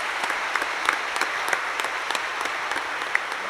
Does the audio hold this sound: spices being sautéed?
no